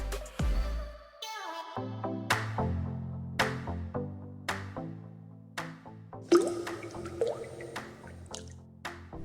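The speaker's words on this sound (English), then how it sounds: "I slowed down the sound a bit so that the sound sounds beautiful with a drop of water" Slowed-down water drops fall one after another, each a deep resonant plop with a lingering watery ring, at a slow, steady pace.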